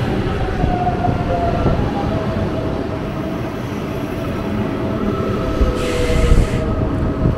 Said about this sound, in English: what's also cool is this ICE train just coming in.